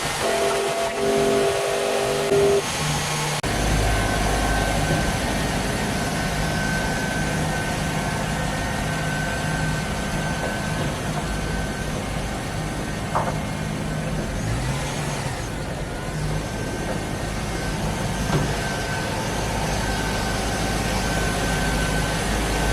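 A truck engine runs steadily after a transmission install, a continuous close rumble with a faint higher whine above it and a brief clunk near the start.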